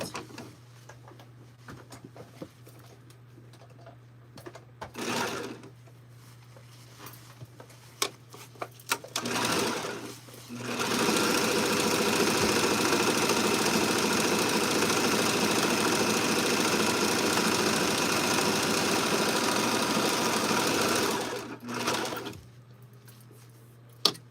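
A sewing machine sews pants to a yoke in a long, loud, continuous run, preceded and followed by short bursts of stitching and quieter handling noise, with a steady low hum throughout.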